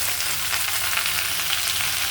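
Chopped drumstick leaves sizzle in hot oil with onion and garlic, a steady, dense frying hiss with faint stirring scrapes, close and continuous with no talking.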